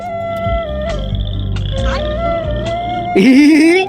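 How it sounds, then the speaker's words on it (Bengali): A frog croaks inside a well, its loud, resonant calls repeating in quick pulses near the listener before a longer, rising croak at the end. "এখানে তো ব্যাংক ডাকতেছে"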